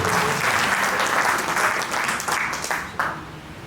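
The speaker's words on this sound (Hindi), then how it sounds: "एक बार जोरदार तालियां अपने" Loud, dense applause from a political rally audience at a Sanjay Singh event, sustained clapping that swells and then tapers off near the end.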